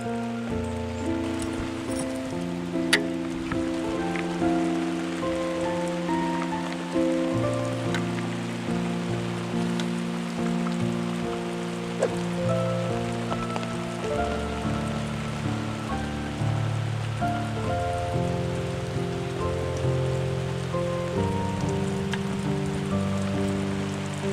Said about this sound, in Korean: 이젠 비가 정말 세차게 내리는데요